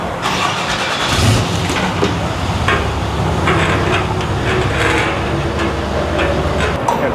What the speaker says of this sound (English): I'm gonna have you pull your truck out